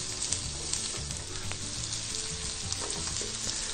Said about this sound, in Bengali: এখন পেঁয়াজটাকে সুন্দর করে ভেজে নিতে হবে।